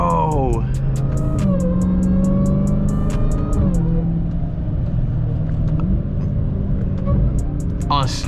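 A 707-horsepower car driving on Blizzak snow tires, its engine droning and rising and falling through gear shifts up close, with people talking over the steady road rumble.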